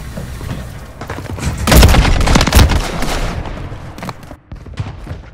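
Gunfire from Call of Duty Modern Warfare 3 comes as loud, dense bursts of shots and booms that peak in the middle and then fade.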